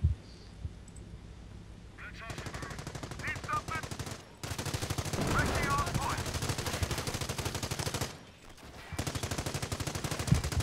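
Rapid machine-gun bursts and scattered gunshots from a Company of Heroes battle as a base comes under attack, loud and near, continuing almost throughout with brief lulls.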